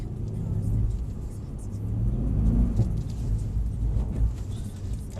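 A Mercedes-AMG 63 engine rumbles and swells as it revs while driving, a deep steady drone rising in the middle, with voices talking over it inside the car.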